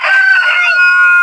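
A sick chicken suffering from snoring respiratory illness and white diarrhea gives a single loud, close, strained crow-like call lasting just over a second, with no one talking.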